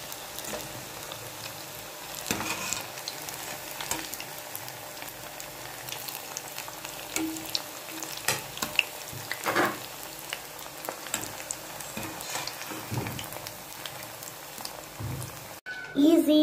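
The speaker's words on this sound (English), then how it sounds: "It should come in a golden color and it should fry very well." Baby corn deep frying in hot oil gives a steady soft sizzle and bubbling throughout, with occasional clicks and stirring noises, and a brief louder clatter near the end.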